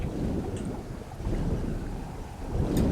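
Storm wind roars in the Stranded Deep survival game, a continuous dense rushing noise at moderate level that swells toward the end, with no voices.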